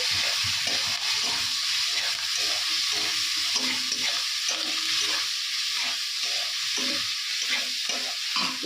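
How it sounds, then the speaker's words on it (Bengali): Mixed vegetable chorchori frying in bhetki fish oil gives a steady, close sizzle with repeated scrapes of stirring all the way through, and no talking. "তেল দিয়ে চচড়িটা হচ্ছে"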